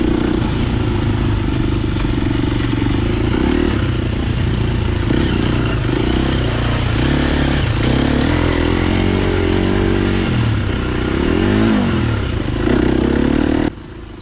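A Triumph Scrambler 1200 XE motorcycle rides off-road trails in snowy weather, its engine loud and close with a steady throbbing rumble that rises and falls as the rider works the throttle.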